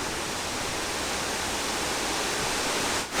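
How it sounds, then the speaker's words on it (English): Bald River Falls pours steadily into the Tellico River, a continuous broadband roar of falling water that stays loud and unbroken, with a brief dip near the end and no talk. "here we are at Bald River Falls, just on the side of the Tellico River here, where the Bald River runs into the Tellico"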